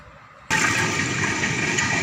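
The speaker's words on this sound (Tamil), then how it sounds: "நம்ம கிரைண்டரில் அரிசி அரைச்சிடலாம்." A wet grinder churns washed, drained soaked rice into idli batter, starting abruptly after a quiet half second and then running as a steady, loud, dense whirring rumble with no talk.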